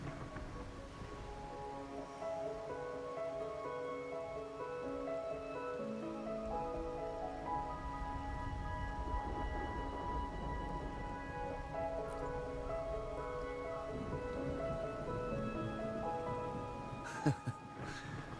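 Steady rain falls in a video game world, a continuous soft hiss across the whole stretch, with layered musical tones sustained above it and a brief sharp click near the end.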